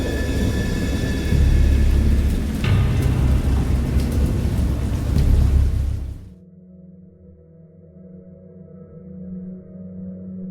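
Video game thunderstorm: heavy rain pours with rumbling thunder and a sharp crack, then cuts off abruptly, leaving a low, quiet droning tone.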